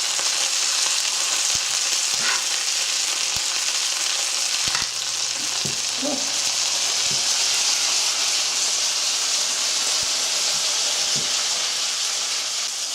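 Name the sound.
walleye fish frying in hot sauce in small pan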